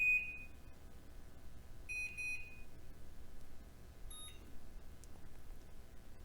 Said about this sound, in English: The range has 3 different buzzer sounds.